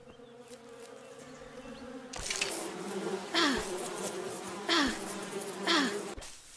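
Bees buzzing around a bee's nest in the Wild West survival video game Above Snakes, a steady close drone with a few louder swells as insects pass nearby.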